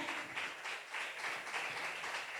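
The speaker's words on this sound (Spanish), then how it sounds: "en este día también denle un fuerte aplauso al Señor por Daniela," Faint, distant applause from a church congregation, a steady wash of hand-clapping with gentle swells, heard alone without speech.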